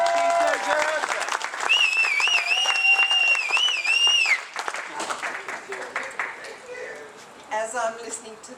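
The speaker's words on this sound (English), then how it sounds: "Give her a clap, give her a clap" An audience at a retirement event applauds a speaker, a dense wash of clapping under a voice and a high whistled tone, fading as talking continues.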